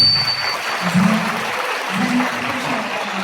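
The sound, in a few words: audience applauding Elnur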